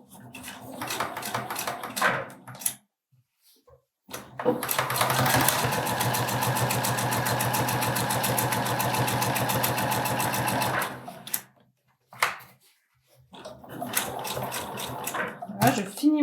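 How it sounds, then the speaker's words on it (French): Sewing machine stitching a 1 cm assembly seam on a removable belt, short bursts at the start and end for backstitching around a long steady run of rapid rhythmic needle clatter, close and clear. "on va faire une couture d'assemblage à 1 cm. J'installe mon guide margeur et je commence ma couture par un point d'arrêt."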